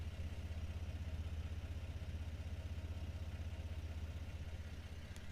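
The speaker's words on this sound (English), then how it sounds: "the other reason for going kind of conservative and as quiet as I can with the exhaust" A Toyota 1FZ-FE engine idles with a quiet, conservative exhaust, heard from outside the vehicle: a steady, low, even rumble with a faint mechanical clatter, continuous and unchanging throughout.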